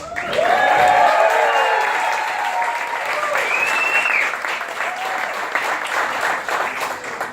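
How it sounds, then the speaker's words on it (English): An audience in Chicago breaks into warm, sustained applause that fills the room, with cheers and whistles rising over the clapping before it slowly tapers. "And now I want you to give me a warm Chicago round of applause for Euguenio Dervez."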